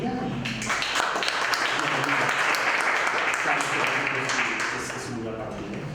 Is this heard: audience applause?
yes